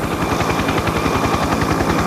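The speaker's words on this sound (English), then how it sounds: "American helicopters arrived unannounced in Phnom Penh." American helicopters arriving in besieged Phnom Penh during the evacuation of the last Americans; a loud, steady, rapid rotor chop that pulses evenly throughout, with no voices.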